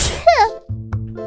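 A single sharp sneeze burst, close and loud, followed by a brief voiced sound afterward.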